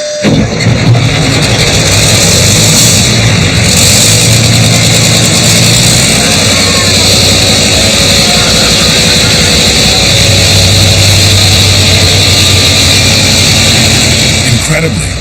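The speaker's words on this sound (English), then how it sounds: "check engine has exploded to life on the second try" A BMP armored vehicle's engine runs loud and steady throughout, a dense heavy rumble with a continuous higher whine, close and dominant from start to finish.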